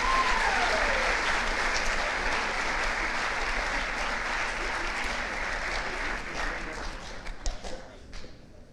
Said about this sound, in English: And one more round of applause for our 12 Sport athletes.